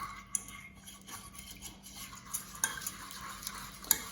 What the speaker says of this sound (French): c'est une étape où il faut touiller tout le temps